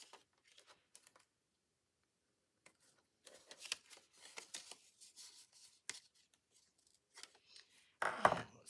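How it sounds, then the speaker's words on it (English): Scissors snip through paper while a journal card is being trimmed into a frame, with quiet sparse cuts at first, then a steadier run of crisp snips and a louder burst near the end. "let's see if I can just use my scissors and just cut this so that we have a frame"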